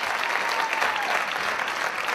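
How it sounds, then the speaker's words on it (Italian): An audience applauds music students being presented at the end of a show, warm continuous clapping at moderate distance with no speech over it. "un applauso"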